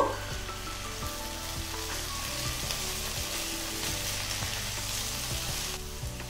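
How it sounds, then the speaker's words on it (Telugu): Green beans and potatoes fry in a pan, salted, a steady close crackling sizzle that holds evenly throughout, with faint scraping and low intermittent clatter underneath, no talking. "కొంచెం వేగనిద్దాము। ఉప్పు అది వేసాం కదా, బాగా చక్కగా వేగుతాయి।"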